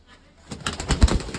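A pigeon coos a few soft, throaty notes close by, rising from near silence over little more than a second.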